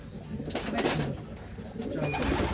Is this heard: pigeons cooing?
yes